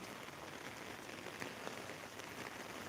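Rain falling in Velichala village, a faint, steady patter and hiss of drops on surfaces, even throughout with no voices.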